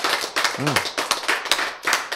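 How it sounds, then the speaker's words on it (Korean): A lecture audience claps steadily in quick, even rhythm, close and fairly loud, with a brief voice rising in the middle. "자, 이거는 박수 쳐야 될 만한 일이요."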